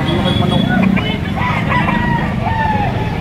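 White Kelso rooster stag crowing at a farm in Lipa, Batangas, several drawn-out calls among other fowl, set against a constant low background rumble.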